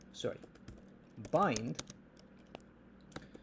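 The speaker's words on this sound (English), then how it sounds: "Now what I can do is I can type bind" Keys clack on a Mac computer keyboard as a terminal command is typed, a few quiet, scattered taps with a brief burst of activity in the middle against a faint background.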